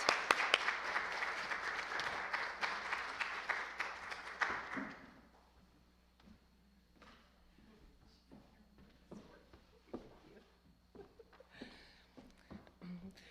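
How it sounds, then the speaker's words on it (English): An audience at a talk applauding in a burst of clapping that fades out after a few seconds, followed by quieter rustling and footsteps as the room settles. "give her a big applause"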